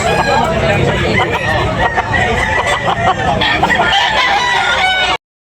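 Several roosters crow loudly and repeatedly, with clucking hens and a murmur of people in the background, at a poultry market in Tabunok, Talisay, Cebu.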